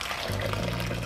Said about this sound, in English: We're adding enough water until everything is covered.